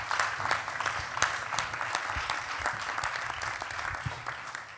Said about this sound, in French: On peut l'applaudir déjà pour commencer pour ce documentaire.